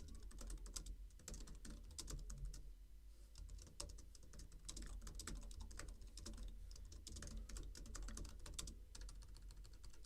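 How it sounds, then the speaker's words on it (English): Rapid, continuous typing on a computer keyboard, with dense clattering keystrokes throughout at a steady close level and no talking. "Sorry if you can hear my keyboard rattling away there"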